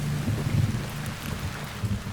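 Rain pours in a steady hiss while low thunder rumbles and rolls beneath it, a dense stormy wash from a short film's sound design, with no voices.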